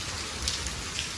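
Rain falls steadily at Chotila hill temple, a soft continuous hiss with faint scattered drop taps, heard alone over a short moment.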